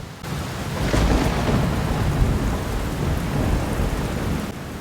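A cartoon nor'wester thunderstorm with heavy rain: a dense, continuous wash of rainfall with deep rolling thunder underneath, loud and steady throughout, with no voices.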